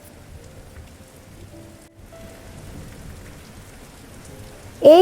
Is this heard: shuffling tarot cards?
no